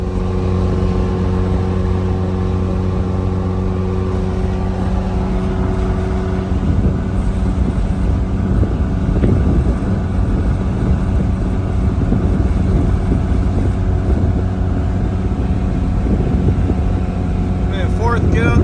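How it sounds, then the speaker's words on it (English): A 1988 Toyota 4Runner with a stroker engine pulls uphill in fourth gear, its steady engine drone loud and continuous with strong low harmonics and wind buffeting, alone without talk. "Man, fourth gear going uphill."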